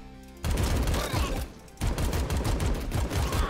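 Rapid gunfire in the video game AK-xolotl, dense continuous bursts of shots that pause briefly mid-clip and then resume loud and steady.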